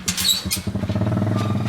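A motorcycle rides a rough, stony and waterlogged dirt track through the Yucatán bush after a heavy storm, its engine drone steady and close, with rattling and squeaky jolts over the uneven ground.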